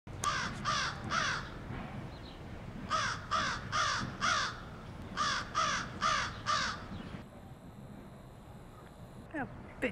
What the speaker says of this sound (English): A bitchy crow.